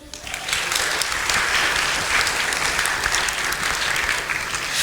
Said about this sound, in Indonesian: Tepuk tangan dulu dong untuk Pak Ziad.